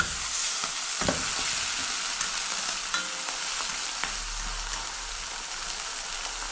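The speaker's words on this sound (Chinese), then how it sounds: "因为剁椒是有水的，所以的话它有点炸。" Pork ribs fry with watery chopped chili in a pan, giving a steady loud sizzle and spatter with a few sharp clicks from stirring, and no voices.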